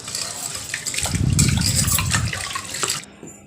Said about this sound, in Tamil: அதை ஒரு ரெண்டு மூணு டைம் நல்லா வாஷ் பண்ணி எடுத்துக்கிறேன்